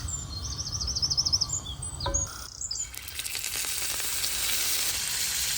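Fish being sealed in hot oil in a frying pan for a Goan dish, a steady close sizzle that swells after a clatter midway, with bird chirps sounding faintly in the background early on.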